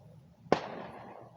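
A single Canada Day firework bursts with a sharp bang followed by a fading, echoing tail, heard from a distance outdoors with no voices.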